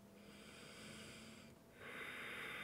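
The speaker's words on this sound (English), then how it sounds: "Ujjayi breath if you have it. So in and out of the nose with sound." Ujjayi breathing in and out through the nose with a slight restriction at the back of the throat, two soft hissing breaths close to the microphone, the second stronger and rougher.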